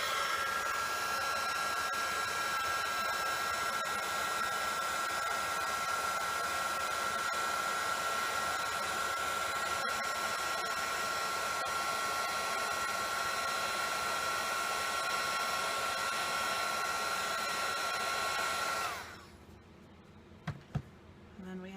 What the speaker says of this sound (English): Then, magic, use the embossing tool.